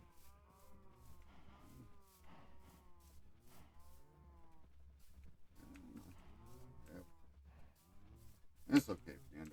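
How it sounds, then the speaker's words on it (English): Cattle low repeatedly while being herded, several overlapping moos at moderate distance, with a person talking between them and a brief sharp knock near the end. "Once you start getting the cows in there, you can always come back and they don't wander too far."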